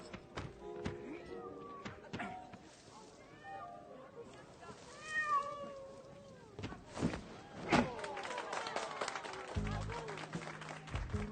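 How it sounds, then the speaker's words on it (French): A cat stuck up in a tree meows several times in short rising calls, heard amid people talking and scattered knocks outdoors. "Son chat grimpé dans l'arbre,"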